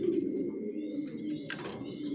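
Female grizzle racing pigeon of Johnson long-distance line, down-shaped, sitting with new chicks in a loft; a steady low coo runs through with a few brighter chirps over it, close and fairly quiet, no talk.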